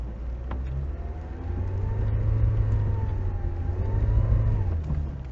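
A Lada Niva 4x4 on mud tyres with self-locking differentials drones steadily in first low gear as the engine labours and revs in mud, a low continuous roar that swells slightly midway.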